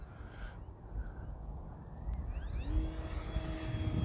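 An HK Durafly Tundra V2 RC airplane flies overhead, its electric motor whine faint at first, then rising in pitch and loudness as throttle increases and the plane draws nearer.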